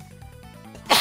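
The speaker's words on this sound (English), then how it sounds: "Oh, I have to sneeze." A single loud, close sneeze bursts out at the very end, after a second of low, muffled sounds from a Doom II level.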